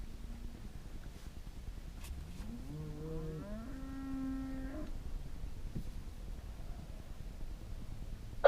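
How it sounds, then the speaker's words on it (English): Cattle low and moo during a cattle drive blocking a road, a few drawn-out calls rising and overlapping in the middle of the clip over steady outdoor rumble. "That is a lot of cows."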